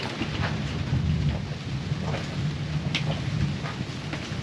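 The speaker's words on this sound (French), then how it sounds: "Ça tonne, on a des éclairs" Thunder rumbles low and distant through a storm, rolling on under a steady hiss of rain with a few sharper drops, continuous and moderately loud without speech.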